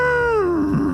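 A voice imitates an angry rhinoceros in a children's story, producing one short, loud, gliding low groan that falls in pitch and ends in a rough grunt.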